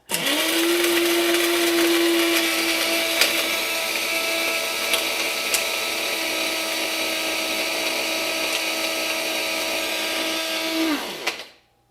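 A grinder runs continuously for about eleven seconds, grinding material to use on a sick miniature rose. It makes a loud, steady, high motor whine with a constant pitch and rattling, then winds down and stops.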